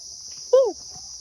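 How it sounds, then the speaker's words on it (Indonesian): Insects, likely many crickets, drone in a steady high buzz on a mountain trail, with one brief, nearer chirp-like note cutting in. "Di sini sudah mulai terdengar suara banyak jangkrik atau tonggeret."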